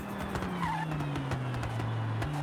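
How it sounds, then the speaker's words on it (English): A truck fitted with a race transmission and straight-cut gears runs with a steady, droning gear whine beneath a low engine hum, held without a break and heard alone without talk. "you can hear the sequential gears, or the straight cut gears"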